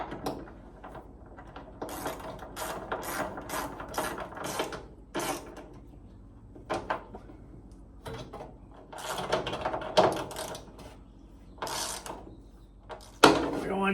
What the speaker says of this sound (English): Okay, we'll tighten them up.